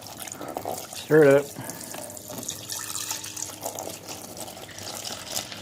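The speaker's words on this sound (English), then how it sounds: "So let's add the water." About half a gallon of water is poured into a container holding rusty parts for a laundry-soap rust soak, a steady splashing wash running the whole time, with a brief spoken phrase near the start.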